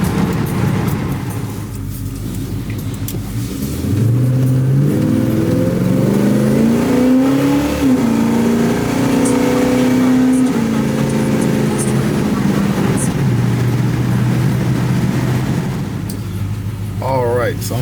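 A 1973 Chevy Impala's engine drones while driving around town, its pitch rising as it accelerates, holding, then easing off, heard from inside the car with someone talking over it.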